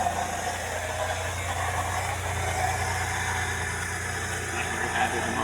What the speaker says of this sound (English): Sounds like it's got a pulley making noise or something.